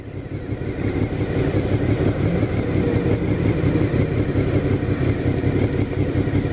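A motorcycle cruises along a road a little above the speed limit, its engine a steady, loud, close drone with constant wind rush and no break throughout.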